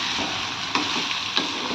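Chopped vegetables fry in a pan before going into rice, giving a steady, close sizzling hiss with a couple of faint clicks from stirring.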